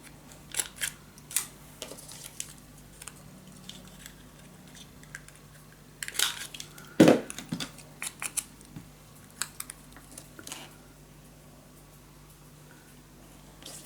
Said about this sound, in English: need to cut this down